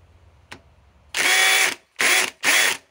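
DeWalt 860 impact driver run in reverse at speed 3 on a stripped fastener: a faint click, then three loud close bursts of rapid hammering, the first longest and the last two short, with no voices.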